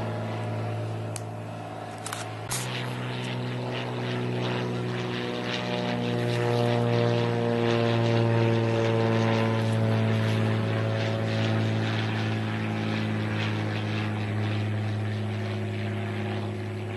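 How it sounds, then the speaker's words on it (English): A propeller-driven fixed-wing airplane passes overhead with a steady droning engine whose pitch shifts as it approaches, loud and sustained for well over ten seconds with no talking. "I got another plane to show you."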